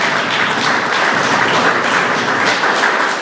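A church congregation applauds together, a dense, steady wash of loud clapping filling the space without letup for a few seconds.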